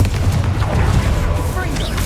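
A Confringo fire spell bursts in the Hogwarts Legacy video game, a dense booming blast with crackling debris that rumbles continuously across the moment, loud and close amid game effects.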